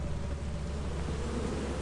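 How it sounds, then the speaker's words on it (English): A swarm of bees from a beehive in Lethal Company gives off a steady, dense buzzing drone, continuous and fairly close, with no voices. "She died from the mass hordes of bees!"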